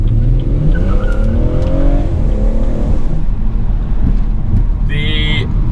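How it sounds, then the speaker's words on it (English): A 2017 BMW 440i Gran Coupe pulls away hard from a standstill, its engine rising in rising pitch through the revs, loud and close with a gear change midway and a brief chirp near the end. "just pulling out of here, we'll just give it a little bit of a hard acceleration."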